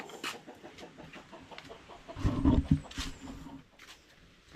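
Chickens cluck in short repeated bursts, rising to a louder, busier flurry midway before settling back to scattered clucks.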